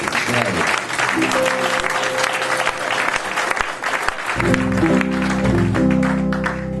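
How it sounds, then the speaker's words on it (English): An audience at a blues performance applauds two singers, a loud sustained wash of clapping that gives way to guitar and music toward the end. "How about a nice round of applause for those two beautiful people singing?"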